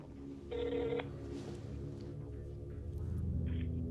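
A telephone ringback tone on a call nobody picks up, with two short ringing bursts over a low room rumble and no talking.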